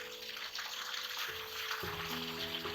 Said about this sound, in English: I'll show you the fire hose pipe. You can see the force of the water at the time of emergency.